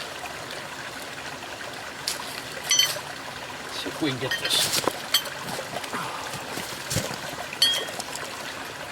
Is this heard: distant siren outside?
no